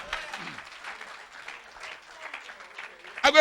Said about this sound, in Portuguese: Aplauda o nome do Senhor esta noite